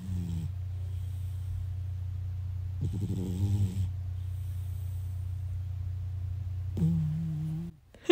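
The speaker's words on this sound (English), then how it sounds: "he is like fully snoring in the background" Low, steady rumbling snore from a cat, drawn out in long breaths with a few brief snorts, close by and otherwise quiet.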